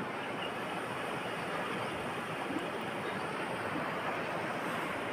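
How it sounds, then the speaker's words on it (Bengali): Snowmelt water of the Joyanti River rushes in a steady, broadband roar close by among hills, with wind adding to the continuous wash of sound. No one speaks. "এই যে জল বয়ে চলেছে, আস্তে আস্তে চলে গেছে।"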